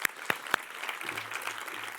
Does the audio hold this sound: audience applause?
yes